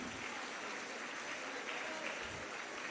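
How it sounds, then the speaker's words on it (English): Dense, steady applause from an audience at a students' drama event in Madurai, many hands clapping together at an even volume for the full stretch, with faint voices mixed in. "Can we clap your hands before they start one time?"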